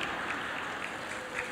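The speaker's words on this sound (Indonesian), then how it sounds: "Malah tepuk tangan." An indoor audience at a talk in a hall claps in a steady, dense patter that lasts throughout, fairly soft and without voices on top.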